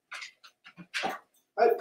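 A dog whines and pants in short, close bursts during a training session on a low platform, with a few brief pauses between the sounds.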